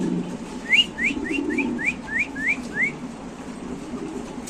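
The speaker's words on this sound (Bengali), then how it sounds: "কবুতরের ডাকটা এমনি দেখাই দিই" A pigeon at a pigeon farm gives a quick run of about eight bright, rising whistled chirps, evenly spaced and close, against a quiet low background hum.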